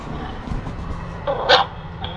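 A house dog outside a front door barks a few times, with a sharp loud bark near the end standing out over light background noise.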